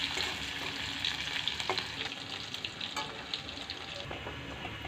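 Onion, garlic and dried red chillies being stirred as they fry in oil in a wok: a continuous close sizzle broken by scraping and light knocks of the spatula against the pan.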